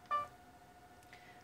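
A single short electronic telephone keypad beep, bright and clear, followed by a faint steady tone and quiet background hiss.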